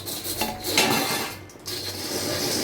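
Metal lid lifted off a pot of boiling Tamil fish curry made with several kinds of fish: a short clattering scrape near the start, then a steady close hiss of simmering.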